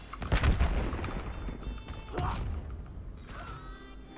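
Gunfire in a shooter video game: a burst of close shots at the start, then scattered mechanical clanks and smaller bursts with a rising whine, fairly quiet and without speech.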